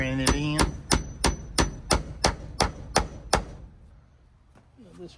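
A hammer tacks wood while building a catio for rescued cats at a base camp: about ten sharp, evenly spaced blows ring out close and loud, then it falls quiet, with brief voices at the start and end.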